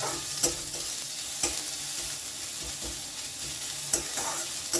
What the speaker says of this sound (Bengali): তেলের মধ্যে দিয়ে দিচ্ছি কুচো করে রাখা পেঁয়াজ পেঁয়াজটা খুব ভালো করে একটু